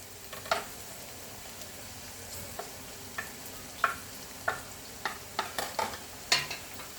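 Chicken and onions frying in oil in a kadhai while a bhindi chicken dish is made: a soft, steady sizzle punctuated by irregular spoon stirs and scrapes against the pan, close but fairly quiet.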